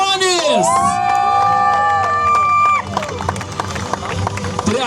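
A crowd cheers and whoops loudly for the third-place finisher at an award ceremony of a Lithuanian Aquacross jet-ski championship round in Elektrėnai, with excited voices and scattered shouts continuing after.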